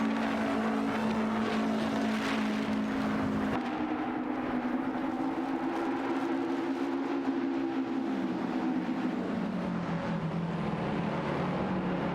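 Race cars in a video game race, several engines droning and shifting pitch as they pass, loud and continuous with a sudden change partway through, no talking.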